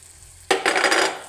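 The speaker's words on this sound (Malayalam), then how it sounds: "മുളക് പൊടിയുടെയും മല്ലിപ്പൊടിയുടെയൊക്കെ ഒന്ന് പച്ചച്ചുവ മാറുന്നത് വരെ ഇളക്കണം" Chili, fenugreek, turmeric and coriander powders frying in a pan for a vegetable curry, a sudden metallic clatter of a spoon starting a brief burst of scraping and stirring after a quiet moment.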